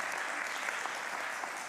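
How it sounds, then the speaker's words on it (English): Audience applause at a science talk competition final, a steady dense wash of clapping from a room full of people, fairly quiet and continuous throughout with no voices. "Give yourselves a round of applause."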